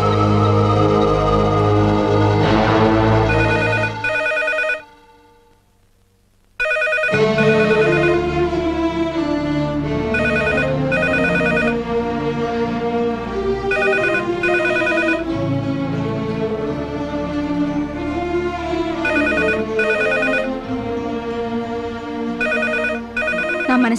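A telephone rings loudly and repeatedly in a steady electronic bell pattern, pausing for about two seconds near the start before resuming and continuing without anyone answering.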